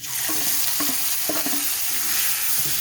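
Whole cumin seeds and spices fry in a pan for a curd pointed gourd dish, sizzling steadily with close, repeated stirring scrapes over the constant hiss.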